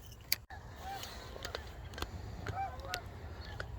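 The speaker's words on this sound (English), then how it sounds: "Just moved spots and I've got geese flying right at me." Geese fly over a small lake, honking in a series of short, nasal calls against a soft, steady outdoor background, moderately distant and unaccompanied by talk.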